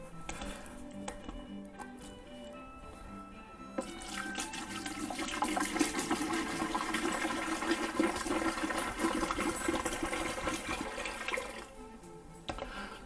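Apple juice pours and glugs steadily into a fermenter for a spiced pirate-style mead, a continuous splashing liquid stream that swells in the middle and tapers off near the end, with no talking.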